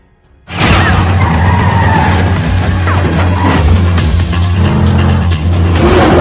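Racing cars roar off at the start of a race in a film, with loud, continuous engines and screeching tires that burst in suddenly and stay close and intense.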